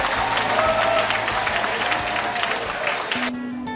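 An audience at a public event claps in a dense, steady burst of applause that fades toward the end.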